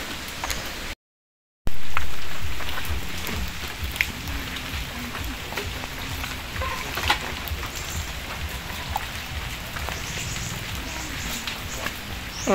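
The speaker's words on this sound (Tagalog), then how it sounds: "Ay, maulan." Steady rain pattering on a surface, broadband and continuous, with a brief drop-out near the start and a faint voice now and then underneath.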